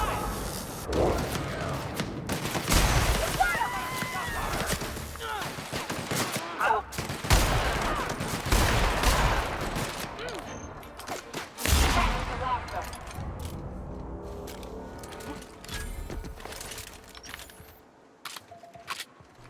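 Rapid bursts of gunfire from The Outer Worlds, a PC shooter game, crackle in dense volleys and sharp single shots across the scene, loud and near, with occasional voices mixed in before trailing into quieter ambience.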